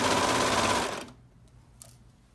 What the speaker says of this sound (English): This is where we're serging now on the front.